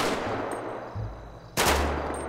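Gunfire in the GTA 5 video game during roleplay target practice: a continuous loud burst of game shots with a sharp, louder report near the middle, dense and close, with no talking.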